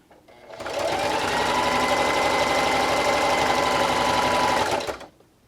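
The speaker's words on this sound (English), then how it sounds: "And just keep sewing." A sewing machine runs a straight stitch in one continuous burst of about four seconds, a close, steady, even whirring hum that starts and stops cleanly.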